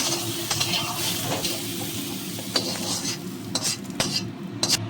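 Pieces of raw jackfruit fry in oil for a vegetarian jackfruit dalna, a low steady sizzle under frequent clinking spatula strokes against the pan.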